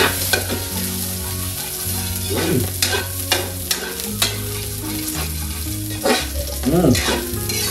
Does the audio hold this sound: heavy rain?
no